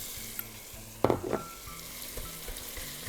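Minced meat sizzles in a pan with green beans, a soft steady frying hiss broken by one brief burst of stirring near the start.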